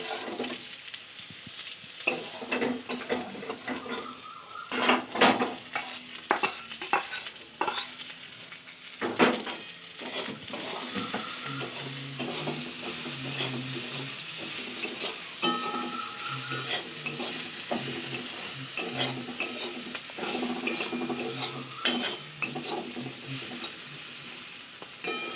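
Ginger, green chillies and potatoes fried in a pan and stirred with a metal spatula, giving a steady sizzle broken by repeated scraping strokes against the pan, close and fairly loud with no talk.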